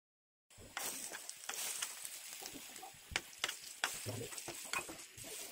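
Chicken tandoori momos placed piece by piece into a little oil in a pan on a gas stove, a sudden onset of close sizzling and crackling with sharp pops and light scraping, continuing steadily, with no talk.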